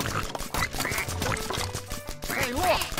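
Cartoon duck quacks sound from the Toy Story Mania video game, mixed with bouncy game music and effects in a busy, loud stretch.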